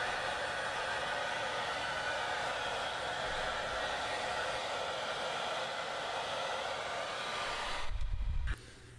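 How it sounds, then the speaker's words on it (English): A hair dryer blows with a constant, even rush of air at close range, then cuts off abruptly near the end. "You can use a blow dryer if you'd like to speed up the process"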